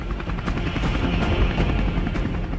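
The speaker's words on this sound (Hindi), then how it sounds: "ये पूरी तरह स्वदेशी लाइट कॉम्बैट हेलीकॉप्टर है" An HAL LCH Prachand light combat helicopter, an indigenous Indian attack helicopter, roars continuously with a rapid rotor chop and engine whine, loud and close, with a few sharp transient bursts.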